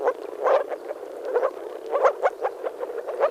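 Moor frogs croaking in flooded shallows among grasses and rushes, a chorus of soft, bubbling, repeated calls in quick irregular bursts, fairly close and with no other sounds.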